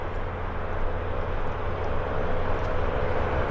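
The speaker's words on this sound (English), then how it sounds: "we've got the Porter Airlines turning on to the active Embraer 195" A Porter Airlines Embraer 195 jet turning onto the active runway at Vancouver airport gives off a continuous, even engine rumble and roar, heard from some distance with no voices over it.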